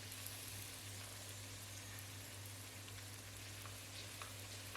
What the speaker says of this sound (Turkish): Zaten hamur ince olduğu için bir de kabardığı için çok çabuk kızaracaktır.